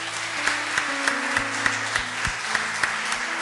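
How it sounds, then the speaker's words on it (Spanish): Church congregation applauding at a Lenten retreat, a steady, dense patter of clapping with sustained organ or keyboard tones underneath, moderately loud throughout. "Regálemos un fuerte aplauso al Señor."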